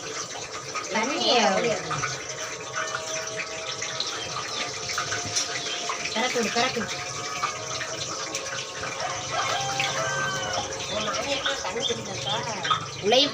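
Tap water runs steadily in a kitchen while adhirasam is being made, a continuous splashing wash with a few faint bird calls behind and people talking over it.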